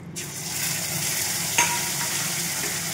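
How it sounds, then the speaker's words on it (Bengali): An egg with salt and turmeric fries in hot mustard oil in a pan, giving a steady, close, continuous sizzle with one brief scrape partway through. "তেলটা গরম হয়ে গেলে ওর ভিতর দিয়ে দেবো আমি অল্প একটুখানি লবণ হলদি আর এই একটা ডিম"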